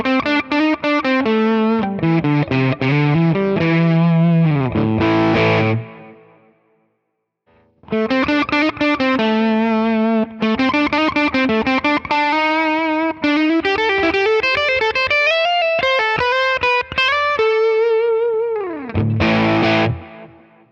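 Electric guitar through a '64 Fender Deluxe amp model on a Quad Cortex, with a string of distorted picked phrases and bright pick attack, a short gap midway, then more riffing that ends on ringing strummed chords.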